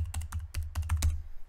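Quick bursts of clicky computer keyboard keystrokes while a password is entered during a Unistim firmware upgrade, a short close series of taps with no speech.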